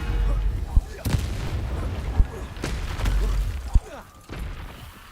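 A Confringo explosion spell fired during Hogwarts Legacy gameplay, several sharp blasts and booms spaced about a second apart over a busy rumbling battle bed, with a voice shouting partway through.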